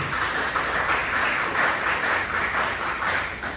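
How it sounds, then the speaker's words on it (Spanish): Congregation at a church sermon gives a strong round of applause, a dense steady wash of clapping that stays loud and even throughout with no voices on top. "Denle un fuerte aplauso al Señor Jesucristo."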